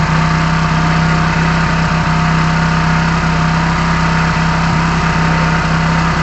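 A car engine runs at a steady held speed, a loud, constant droning hum with a strong fixed tone and faint rattling vibration throughout, and no talk.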